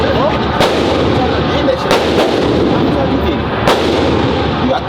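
Gunshots at an indoor gun range, several loud booming reports spaced about a second apart with a continuous rumble of other shooting beneath them, close and forceful.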